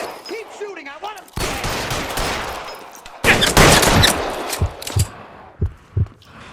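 Gunfire in the video game L.A. Noire: two loud sustained volleys of rapid shots, then a few separate sharp single shots spaced out near the end.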